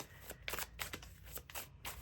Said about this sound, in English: I'm just kind of shuffling until a couple cards come out